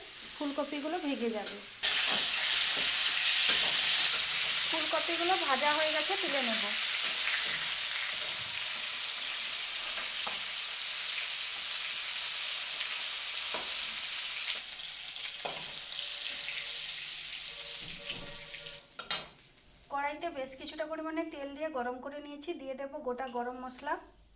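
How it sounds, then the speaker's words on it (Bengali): Cauliflower florets frying in oil on a gas flame at medium heat, a steady loud sizzle running most of the way with occasional clinks, and someone speaking over it at the start and near the end. "গ্যাসের ফ্লেম মিডিয়ামে রেখে ফুলকপিগুলো ভেজে নেব"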